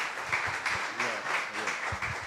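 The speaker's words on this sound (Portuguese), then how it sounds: "uma salva de palmas especialmente ao Cota" An audience at a psychoanalysis and literature talk applauds, a brief patter of clapping heard from a moderate distance, fairly soft and slightly uneven.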